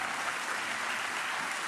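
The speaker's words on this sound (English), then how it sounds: "Please give them a round of applause." A brief wash of audience applause greets arts commissioners at a Dallas arts event, a soft, even patter of many hands with no distinct individual claps and no voices.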